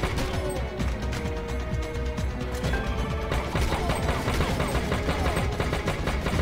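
Gunfire in the mobile shooter Major Mayhem: rapid, continuous bursts of game shots and crashing impacts, loud and dense throughout, layered over a steady game soundtrack.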